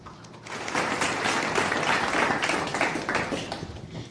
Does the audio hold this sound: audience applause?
yes